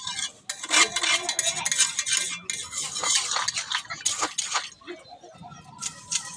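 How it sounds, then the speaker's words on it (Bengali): Spoon scraping and clinking in a pot as mutton curry is stirred after water is added, busy rhythmic metallic scrapes close up, with no talk. "পরিমাণ মতন জল দিয়ে দিলাম। দিয়ে জল দিয়ে নেড়ে নেব।"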